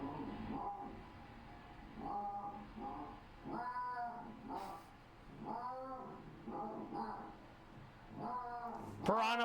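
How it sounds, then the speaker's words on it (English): Pallas cats give a run of repeated nasal honking calls in short bursts, fairly close against a steady background hum, with a sharp louder call right at the end. "And that was Pallas Cats honking."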